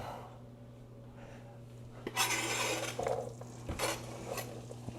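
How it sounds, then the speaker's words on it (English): Jackfruit pieces hit hot oil in a pan for pulled BBQ sliders, a bright sizzle rising suddenly over a steady kitchen hum, with bursts as the pieces are stirred and moved around. "So we're gonna go ahead and get these sauteed down"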